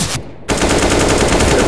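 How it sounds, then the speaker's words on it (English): Rapid automatic gunfire in a competitive shooter video game, a brief pause then a loud, steady rattling burst of shots continuing to the end. "He shot me through you!"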